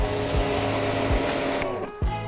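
A Yard Force EW N15X electric pressure washer rinses down a vehicle with a loud, steady hissing spray and motor whine, broken by a few brief thumps and a short pause near the end.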